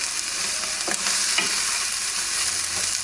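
Garlic fries in a pan with peppers over medium heat, giving a loud continuous sizzle with occasional spatula stirs and scrapes, close up and without voices.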